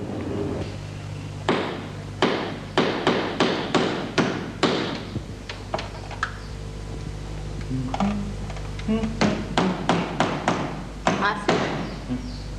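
Repeated hammer blows ring out in irregular bursts of sharp taps, some quick and clustered, over a steady low hum.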